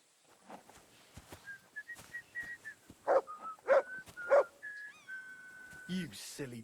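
A dog in the medieval game Kingdom Come: Deliverance 2 gives short yips and whimpering barks, with whistling and game sounds around it.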